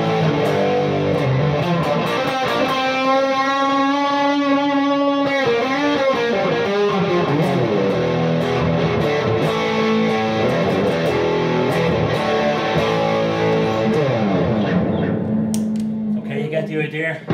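An electric guitar runs through a T-Rex Magnus overdrive with delay and reverb, playing loud, sustained distorted chords and melodic lines that ring out in echoing trails before fading at the end.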